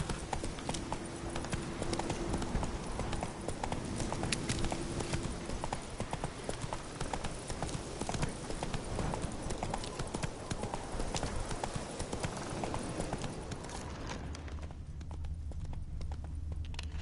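Horse hooves galloping in The Witcher 3, a steady fast clip-clop running throughout at close range over a dense bed of game ambience and music, easing off near the end.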